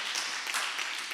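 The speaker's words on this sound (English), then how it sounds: "can you please join me in giving Nisha one more round of applause" Audience applause for a speaker at a curriculum launch event, a short, soft and even patter of many hands clapping.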